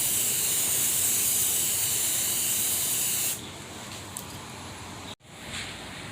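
An aerosol spray can hisses continuously for about three seconds at close range while painting a truck backseat bed, then a quieter shorter burst follows after a brief pause.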